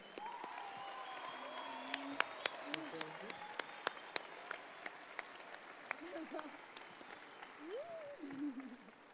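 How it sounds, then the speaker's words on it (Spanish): Faint applause from an audience at a conference, thin scattered claps over a low room murmur, with a voice speaking briefly underneath. "Recibámoslo con un fuerte aplauso."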